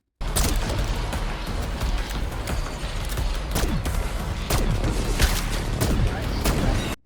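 SMG gunfire at spiders in a video game, rapid sustained bursts with sharp cracks and booms layered into a dense, continuous barrage, with faint talk underneath.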